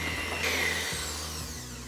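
A whisk blends hazelnut and almond tiramisu cream in a steady, close whirring drone whose pitch shifts slightly as it runs, with no voices.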